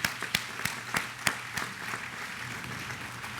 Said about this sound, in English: We'll clap for Halverson.